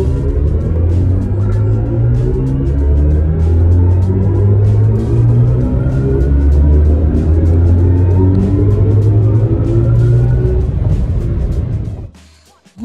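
A BMW i5 M60 electric sedan driving and accelerating, its motor whine climbing steadily in pitch over a low road rumble. The sound stays loud and close throughout, then cuts off abruptly near the end.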